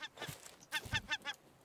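A bird in the survival video game Raft lets out harsh, honking squawks, one short call and then a rapid burst of four, loud and close with no talking.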